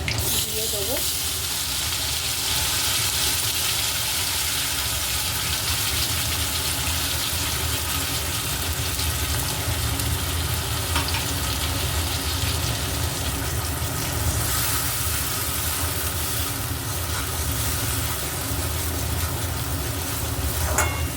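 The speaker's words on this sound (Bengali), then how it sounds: "দিয়ে দেবো ভালো করে মশলাটা কষব তেলটা ছাড়া অবধি অপেক্ষা করব" Spice paste sizzling and frying steadily in hot oil while being stirred, a loud continuous crackle throughout, cooked for a Bengali kabuli chana (chickpea) curry after the onions are fried.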